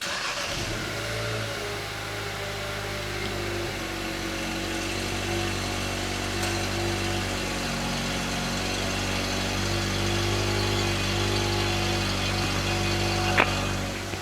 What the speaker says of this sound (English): Here is the engine sound